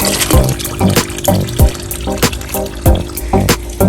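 Water pouring out of a sponge filter into a brick-built koi pond, a continuous splashing trickle with rhythmic gurgles and drips close by.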